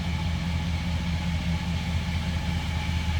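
A 1940 Ford Deluxe coupe street rod with a flathead engine idles with a low, steady exhaust rumble, close and continuous with no talking.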